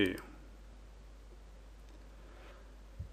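A single mouse click on the OK button while setting up a custom time function in Excel's VBA editor: one short, close, crisp click at the start, followed by near silence with a faint low room hum.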